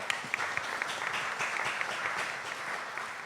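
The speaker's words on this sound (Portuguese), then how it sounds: "uma salva de palmas para a produção do Felipe Neto" Steady applause from a debate audience, many hands clapping together at an even level throughout.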